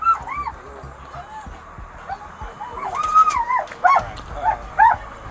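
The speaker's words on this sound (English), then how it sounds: "you're gonna get bit by the dog!" Police dog at an arrest giving a run of sharp barks, yips and whimpers that come close and loud, with someone shouting over them.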